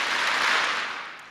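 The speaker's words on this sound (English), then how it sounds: "Family and friends, if you can hear me, clap three times." Graduation ceremony audience clapping on request: a dense wash of many hands clapping from a large crowd, swelling briefly and then fading away.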